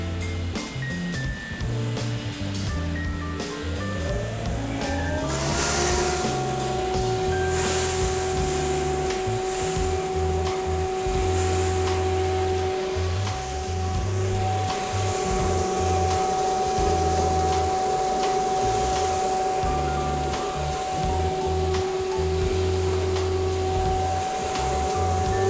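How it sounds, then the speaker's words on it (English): Coffee destoner on a Giesen 15k roaster setup runs after a roast, a steady loud mechanical whir with a rising tone that settles into a constant drone, mixed with rattling and rushing noise throughout. "now we're going to drop the coffee from the cooling tray into the destoner and let it do its"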